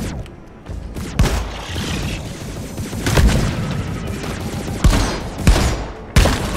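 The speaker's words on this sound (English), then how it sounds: "Oh yeah, shotgun's way better now." Shotgun fire and other weapon blasts in the co-op video game Deep Rock Galactic, a dense barrage of loud booms and sharp cracks with several distinct heavy shots, close and continuous.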